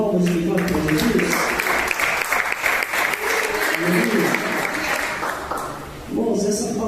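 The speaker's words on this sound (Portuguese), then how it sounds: "Glorifica a Deus com palmas de glória para Jesus." A church congregation claps in praise for Jesus, a dense sustained applause filling the room for about six seconds with a brief dip near the end before resuming.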